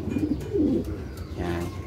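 Soft, low racing pigeon cooing repeats in gentle rolling phrases, close by, with no talking over it.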